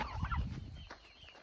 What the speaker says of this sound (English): We got one turkey and a few chicks in there.